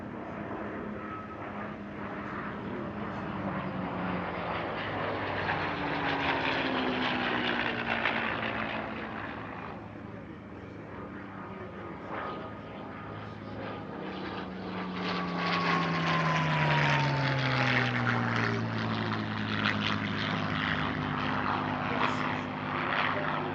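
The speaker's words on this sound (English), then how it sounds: "following which we'll see a tail chase from the Spitfire and Bouchon" A Spitfire and a Hispano-Bouchon, the Spanish licence-built Bf109G, fly a tail chase at an airshow near Paris. Piston engines drone and rise and fall in pitch as the aircraft pass, with the roar swelling again toward the end.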